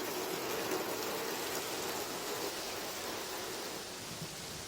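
Steady rain falls in Ilocos Norte as a dense, even hiss that stays continuous and fairly close, with no voices.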